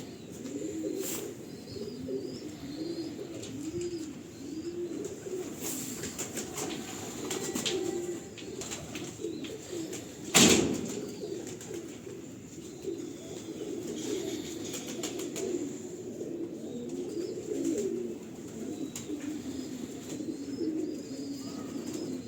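Pigeons coo in a loft with a soft, continuous, overlapping murmur and a single brief thump midway.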